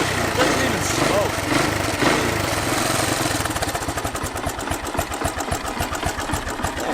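An old Honda three-wheeler ATV engine idling after a cold start, a close, rapid, steady putter with a regular knocking pulse that comes through more clearly in the second half, with some background noise early on.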